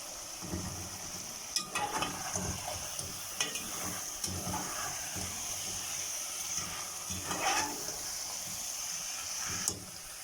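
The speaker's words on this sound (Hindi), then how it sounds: "फ्राई हो गया है, अब टमाटर डाल देते हैं" Tomatoes stirred into masala frying with yogurt in a pan, giving a steady close sizzle and hiss with intermittent clinks and scrapes of a spoon, no talking.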